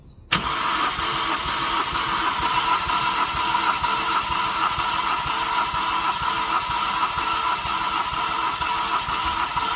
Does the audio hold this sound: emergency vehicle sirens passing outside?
no